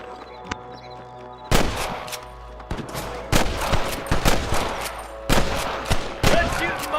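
Gunfire in Red Dead Redemption on PC, loud sharp shots ringing out in irregular bursts and volleys, some overlapping in quick succession, over a low ambient game background.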